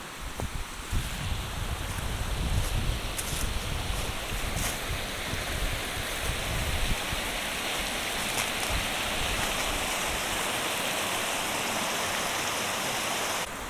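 Wind gusting across an exposed winter campsite on the Appalachian Trail in Pennsylvania, a loud rushing roar with heavy low buffeting in the first half that settles into a steadier broadband hiss.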